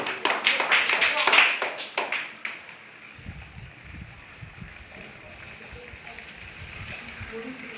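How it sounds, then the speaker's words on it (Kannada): Students at a school quiz programme clap loudly in a dense burst of rapid hand claps for about two seconds, then fade out into quieter background noise and murmuring. "ಜೋರಾದ ಚಪ್ಪಾಳೆ ಬರಲಿ"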